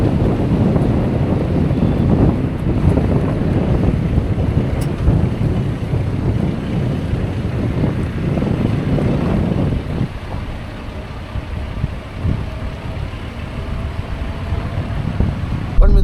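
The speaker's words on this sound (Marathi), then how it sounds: "फेरीमध्ये गाडी टाकायचा आजपर्यंत आपली गाडी कधी फेरीमध्ये गेलेली नाहीये आणि धैर्या पण कधी गेलेला नाहीये" A car ferry crosses the open sea along the Konkan coast near Alibag, with a steady heavy rumble of engine and water under strong, buffeting wind noise on the microphone throughout.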